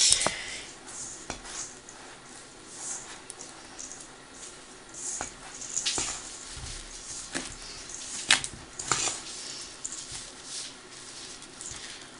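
A spatula works Christmas shortbread dough in a bowl, giving soft irregular scrapes, squishes and light knocks against the bowl, close and quiet, alone without voices.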